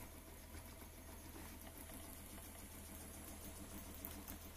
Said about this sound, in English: hear the engine slowing down